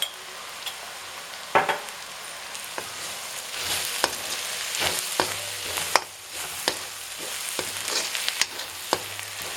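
Chili, turmeric and pepper powders fry in a pan, a steady sizzle broken by repeated scraping and clinking strokes of a spoon stirring through the spices, close and fairly loud with no talking.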